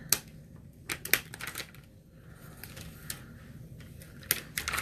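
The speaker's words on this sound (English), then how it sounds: "I'm just peeling up." Vinyl being peeled up by hand while weeding a heat-transfer shirt design, giving a close, crackly series of sharp ticks and brief tearing bursts with quiet gaps between them.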